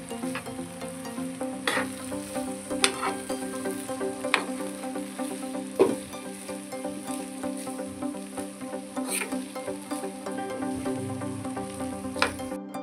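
Tawa pulao with coriander roasting on a flat griddle as it is mixed: a continuous moderate sizzle broken by regular scraping and tapping strokes of a spatula, with no voices.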